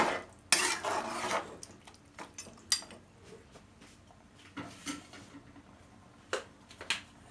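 A spoon scrapes and clinks against a cooking pot while beef kaldereta is stirred, with scattered metallic knocks and soft scraping strokes, fairly quiet and close, with no talking.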